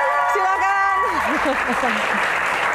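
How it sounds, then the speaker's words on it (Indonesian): Audience applause at a live Indonesian music Q&A show, broad steady clapping throughout while a host speaks over it and a voice glides in tone. "Aduh, ini paling meriah ya tepuk tangannya ya."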